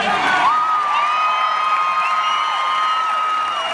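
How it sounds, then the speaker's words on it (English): A live audience erupts in loud, sustained cheering and whooping as David Letterman walks onstage, a dense crowd roar with high shrieks on top, unbroken and without a clear voice standing out. "So you can hear the crowd went crazy."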